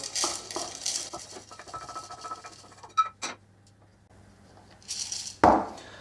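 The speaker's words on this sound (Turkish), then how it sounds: "Kavurmuş olduğum yulafları buna ekliyorum." Dry roasted oats rustle and patter into a blender, with clinks and a sharp knock of a lid or jar against it near the end.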